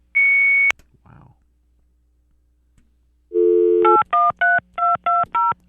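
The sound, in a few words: cell phone keypad dialing tones (DTMF)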